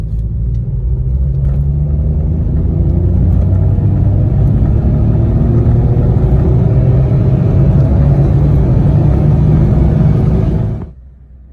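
A car engine pulls hard and steadily accelerating in second gear from 20 mph, a loud continuous rising drone lasting about ten seconds before cutting off abruptly.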